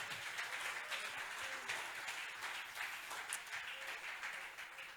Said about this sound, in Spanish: Alguien aplauda fuerte